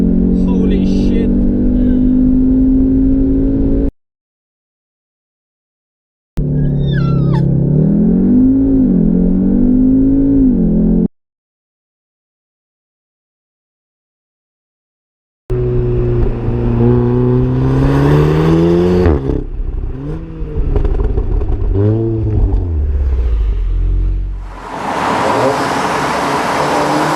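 A 2015–2016 Audi TTS launching hard from a standstill with boost built against the brake, the engine roaring up through rising revs with gear changes, broken by gaps of silence, with a voice talking over parts of it.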